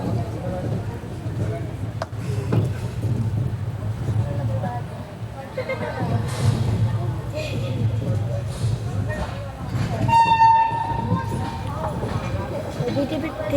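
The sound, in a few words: Mumbai Amravati Superfast Express train running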